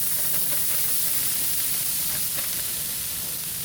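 Pre-seasoned southwestern style hash browns sizzle in a cast iron pan, a steady close hiss of frying with faint crackles and no talking.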